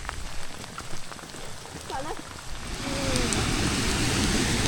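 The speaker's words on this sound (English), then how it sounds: "And it's raining." Steady rain falling through a wet forest with streams and waterfalls nearby, a continuous close hiss of drops on leaves and ground that grows denser and louder toward the end, with a brief voice partway through.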